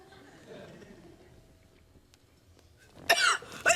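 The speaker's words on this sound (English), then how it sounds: "Who's down there coughing?" A person coughs near the end, a couple of sharp loud bursts after a quiet stretch of faint room noise.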